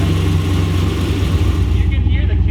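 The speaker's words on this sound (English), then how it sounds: "And now, engine sounds amazing." A Volvo sleeper with a stealthy exhaust and new intercooler setup runs with a deep, steady rumble that stays loud and close, the engine note holding even with slight fluctuation throughout.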